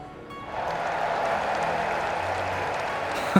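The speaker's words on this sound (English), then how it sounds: "let us shower these victors with thunderous applause" Thunderous crowd applause from a tournament victory ceremony in the video game Trails in the Sky swells in after a quieter start and holds as a steady roar of clapping, ending with a brief sharp accent.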